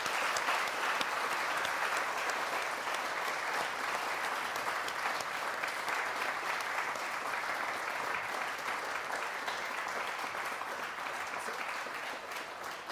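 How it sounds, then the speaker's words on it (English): A crowd at an art talk inside Tate Modern gives a sustained round of applause, steady and full, holding at a consistent level for over ten seconds before easing slightly near the end. "So round of applause for Davey, please."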